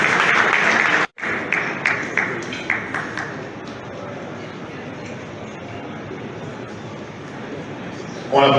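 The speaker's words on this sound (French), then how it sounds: "On l'applaudit encore une fois." Audience applause at a pharmacists' national conference, brisk clapping that breaks off briefly, then resumes in a rhythmic, tapering pattern before a steady crowd murmur, with a loud burst returning at the very end.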